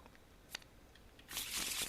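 Playing cards from an Arkham Horror card game are shuffled. There is a brief soft tap, then a louder, crisp riffle of cards in the last second, close and alone in a quiet room.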